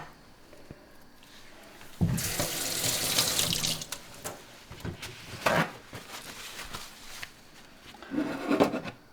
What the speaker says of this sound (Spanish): Vamos a ponerle una tacita de agua limpia, agua de filtro.